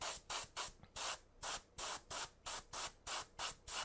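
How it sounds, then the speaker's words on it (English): An airbrush sprays white Stynylrest primer at higher air pressure in short, regular hissing bursts, about ten evenly spaced pulses, close and fairly quiet with no voices. "So we'll just keep spraying on this."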